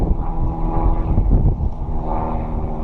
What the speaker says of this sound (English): It's also really windy right now